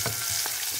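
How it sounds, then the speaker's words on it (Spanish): River fish frying in a pan, a steady hiss of sizzling oil with a few brief pops, close and fairly loud, with no voices. "En esto estoy ahorita, friendo choletas que han hecho"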